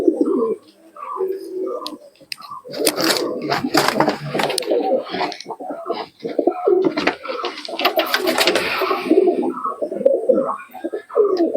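Pigeon from a Delhi fancier's loft cooing repeatedly close by, with bursts of louder fluttering or handling noise in the middle of the stretch.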